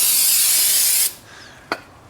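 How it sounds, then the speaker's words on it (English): Brake cleaner sprayed from a can onto a new front brake rotor of a 2005 Ford F250 Super Duty, one loud hissing burst for about a second, then a short second puff. "I get a paper towel and some brake cleaner."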